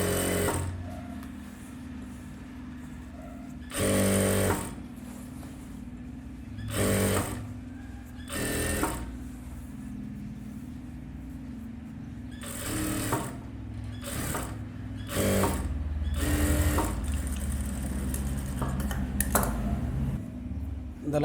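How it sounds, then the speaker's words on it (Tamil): A sewing machine joins a silk skirt and its lining, sounding in several short bursts of stitching separated by pauses. The machine is fairly close but moderate in level, with quiet room noise between runs. "ரெண்டையும் சேர்த்து வச்சு தையல் போட்டுருங்க."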